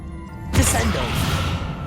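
A Descendo spell cast in the Hogwarts Legacy video game lands as one sudden heavy slam, followed by a rumbling, crackling tail of debris over steady background game music.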